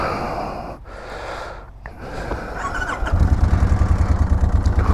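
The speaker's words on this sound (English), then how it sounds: "It does have what we call the Kawasaki tick. You can hear it." A big Kawasaki motorcycle engine starts up after some close breathing noises, then settles into a loud, rapid idle with a steady mechanical tick running through the rhythm.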